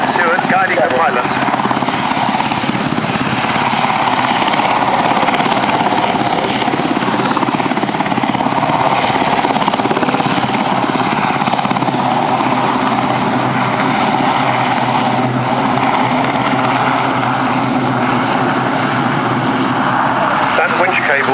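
RAF Sea King helicopter XZ587 at the Cosford Air Show, a loud, continuous rotor and turbine roar that holds steady throughout, with a commentator's voice running underneath.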